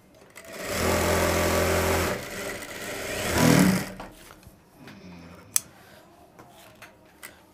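A sewing machine runs a close, steady whirring stitch along a shirt armhole in two short runs, then stops, leaving quiet handling sounds and a sharp click.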